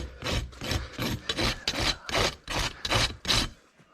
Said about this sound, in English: Brand new file's wanting to clog up on me real bad